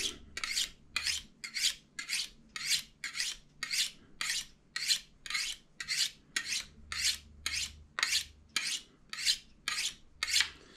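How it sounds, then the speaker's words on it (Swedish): A knife blade is drawn repeatedly across a porcelain hone in a steady rhythm, about twenty crisp rasping strokes, close and clear with no talking. "Vi tar och slipar den andra också. Eller bryner. Vi bryner."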